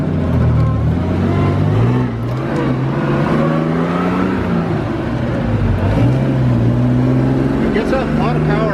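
A 1955 Jaguar XK 140SE fixed-head coupe engine climbs in pitch, drops back and rises again as it pulls up through the gears, loud and close from inside the car, with someone talking over it throughout.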